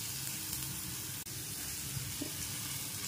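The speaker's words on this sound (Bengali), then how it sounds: "এবার এখানে হালকা পাঁচফোড়ন দিয়ে দিলাম তেলে এবং একটু টমেটো দিয়েছি কেটে" Panch phoron spices and chopped tomato frying in hot oil, a steady close sizzle that carries on through the whole stretch with one brief dip and no talking.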